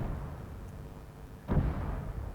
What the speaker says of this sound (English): We're being engaged by the 30mm round, and we actually survived the hit just now.